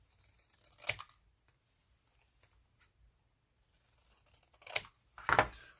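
Scissors trimming paper for a Valentine's journaling pocket: three short, crisp snips, one near the start and two close together near the end, quiet and close, with near silence between them.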